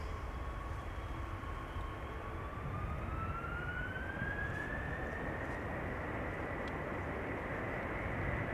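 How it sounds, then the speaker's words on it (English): A KLM Airbus A330-200 heavy departs Amsterdam Schiphol, a sustained, broad engine roar with a rising whine that climbs slowly over several seconds, steady and fairly distant. "This is KLM Flight 651 going to Washington. It's an A330-200."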